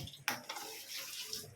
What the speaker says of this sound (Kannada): ಒಂದು ಪನ್ನಲ್ಲಿಗೆ ನೀರು ಪಾಡ್ದು ಪಾಕ ಮಲ್ಪರದು